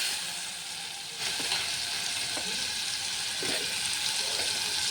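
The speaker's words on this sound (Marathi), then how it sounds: "याच्यामध्ये जी चिरलेली कच्ची कैरी आहे ती मी याच्यामध्ये टाकणार आहे." Chopped raw green mango drops into a hot pan of spiced oil for a sweet-sour chutney, giving a loud, steady sizzle that holds throughout with a slight swell partway as the pieces hit the oil.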